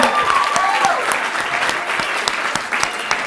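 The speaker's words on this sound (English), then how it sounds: "And I'd like to give you a round of applause." An awards ceremony audience applauds steadily for a young shortlisted entrant, a dense, even wash of many hands clapping close by for the whole stretch with no voices on top.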